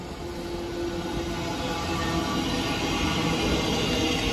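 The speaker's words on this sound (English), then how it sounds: "Moorgate train. Here it comes." A Moorgate-bound slow train on the East Coast Main Line at Hatfield passes close by, a loud continuous roar of wheels and rail noise that swells steadily and holds throughout with no voices.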